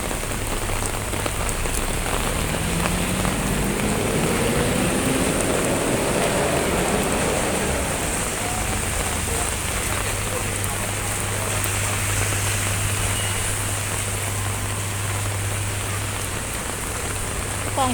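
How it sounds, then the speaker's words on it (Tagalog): Steady rain pours down over a Hong Kong market on a wet afternoon, a dense continuous hiss of drops spattering on surfaces and covers close by, with a low hum underneath and no break throughout. "It's raining."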